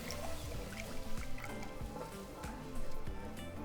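Evaporated milk poured into a pot of sautéed poblano and garlic while being stirred, giving a soft continuous liquid hiss and trickle with faint utensil scrapes and a couple of swells.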